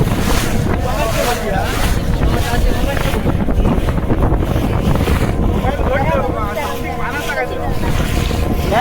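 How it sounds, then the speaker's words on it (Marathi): Sea spray and splashing around a boat on a coastal safari off Nivati beach, a loud constant rush of wind, waves and engine drone with voices talking over it. "पाणी उडतात बघ"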